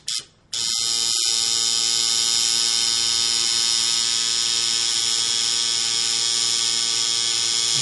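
A tattoo machine with its needle running a line on skin gives a steady, close electric buzz that starts abruptly after a short quiet moment and holds at an even, constant drone.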